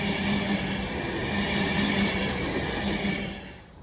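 An Alstom Pendolino train rushes past on a diverted West Midlands route near Marston Green, a loud continuous roar of wheels and rails with faint squeal, easing off at the end.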